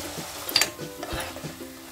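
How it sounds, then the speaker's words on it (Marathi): Spice tempering for undhiyu sautéed in hot oil in a pan, with soft stirring scrapes and a light sizzle, a brief metallic clink near the middle, fairly close and quiet. "तेल सुटेपर्यंत फोडणी परतून घ्यायची आहे."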